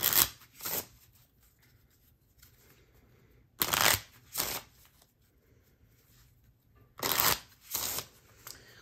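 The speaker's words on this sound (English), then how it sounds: "I will put the 6 of spades back in the deck and shuffle." A deck of playing cards being shuffled, three quick riffling bursts, each a pair of short rasps separated by quiet pauses, close by.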